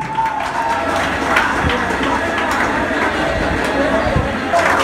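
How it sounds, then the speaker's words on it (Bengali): An audience at a school Teachers' Day cultural event applauds in a dense, continuous wash of clapping and crowd noise, with a voice talking over it. "সবাই একবার জোরে হাত তালি।"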